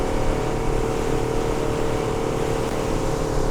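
A Cruise Craft 635 HT Explorer motorboat engine hums steadily and loudly while turning, a constant low drone with no speech, holding even throughout.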